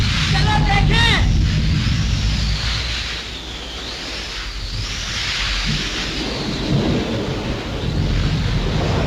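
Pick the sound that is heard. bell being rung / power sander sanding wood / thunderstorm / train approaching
thunderstorm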